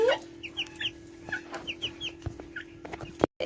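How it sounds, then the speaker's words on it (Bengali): Tiger chickens clucking on a farm, with several short clucks and calls scattered over a steady hum, fairly close and moderately loud, ending in a brief dropout. "আর এই যে টাইগার মুরগি।"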